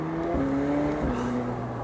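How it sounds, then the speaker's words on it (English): A McLaren 765LT Spider's turbocharged 4-liter engine drones steadily up close, its tone shifting slightly as it revs, with a faint turbo whine riding over the low rumble. "you can hear the turbo, the 4-liter, the wing kick up"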